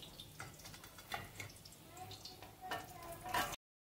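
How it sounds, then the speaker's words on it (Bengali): Rui fish sizzling in hot oil, a steady frying crackle with utensil scrapes and brief clinks close by, briefly swelling louder near the end. "অলরেডি মাছগুলো ফ্রাই হয়ে গেছে"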